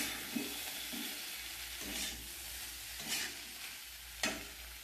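Pre-fried vegetables being stirred in a kadhai for jhinga masala: a steady oil sizzle with several separate scraping stirs of the spoon, about one each second, close up and with no talking.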